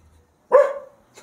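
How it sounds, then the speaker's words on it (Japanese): A dog barks once nearby in a quiet outdoor setting on Palawan in the Philippines, a single clear bark followed by a faint second sound. "ワンワン吠えてるけど"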